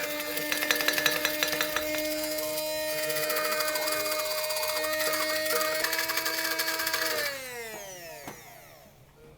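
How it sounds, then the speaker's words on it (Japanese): An electric blender whirs through a lemon pasta sauce base thinned with pasta water, a steady close whine that holds, then winds down and slows to a stop near the end. "でブレンダーで混ぜる"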